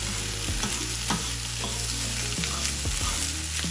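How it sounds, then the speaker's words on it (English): A spoon stirs breakfast fried rice with soy sauce in a hot pan, with steady loud sizzling throughout and scraping strokes of the spoon at irregular intervals, up close. "Then take your spoon and stir it all together."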